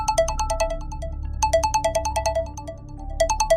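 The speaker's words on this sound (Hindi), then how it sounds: "उस दिन मोबाइल पर आशीष का ही फोन आया था" A mobile phone ringtone plays a repeating bright electronic melody in three loud phrases separated by short pauses, with no talking.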